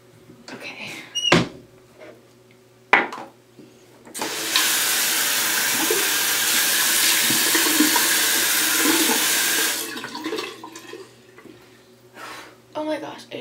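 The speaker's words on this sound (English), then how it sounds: "I wash my face with freezing cold water" Cold water pours steadily from a bathroom sink faucet for about six seconds while a face is washed, loud and close, with clicks and clunks of a cabinet or tap before and after.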